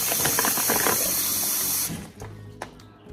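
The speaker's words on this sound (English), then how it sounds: "just hot water, just a little bit. This is just to soften it up." Hot water pours from a tap to soften pancit noodles for pancit palabok, a steady broad splashing flow that runs close and loud, then cuts off abruptly, leaving faint clatter and a brief knock.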